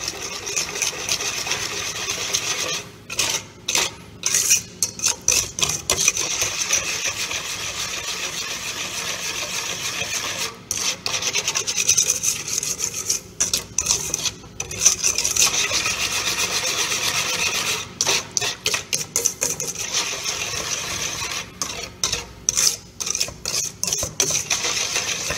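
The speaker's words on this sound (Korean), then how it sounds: "옆에를 타지 않게 잘 긁어주세요." A spatula or whisk scrapes the sides of a hot pot while walnut pie filling cooks, repeated rough rasping strokes that run continuously with brief pauses, close and fairly loud.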